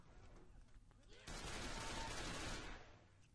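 A sudden burst of heavy gunfire in the zombie shooter game Left 4 Dead 2 erupts after quieter in-game sound and lasts over a second before fading, with a player talking around it.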